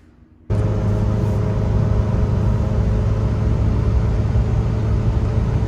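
A Ferrari 360 on a test drive after its coolant was bled: a steady, loud engine drone and road rumble from inside the car kicks in abruptly and holds even, with no talking.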